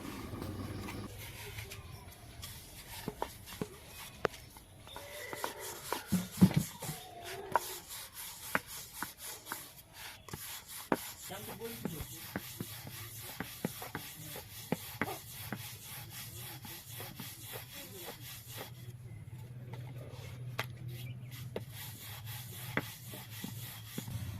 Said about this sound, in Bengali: এই লেচিগুলো ময়দা দিয়ে রুটির মতো করে পাতলা পাতলা করে বেলে নেব